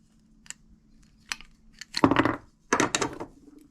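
A tubing cutter working around PEX tubing next to a copper crimp ring, close scraping and ratcheting rasps in short bursts, faint at first and then two louder grinding strokes at the end.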